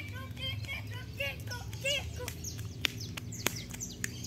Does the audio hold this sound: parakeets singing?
yes